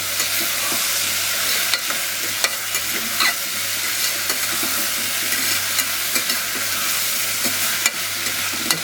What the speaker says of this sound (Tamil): எல்லாம் போட்டு நல்லா கிளறி வைக்கணும்